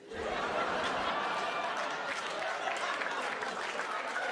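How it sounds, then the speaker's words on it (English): Steady audience applause fills a stand-up comedy show, a dense, loud wash of clapping from a crowd with scattered laughter and chatter mixed in. "Applause break on a joke I've never said before on my special."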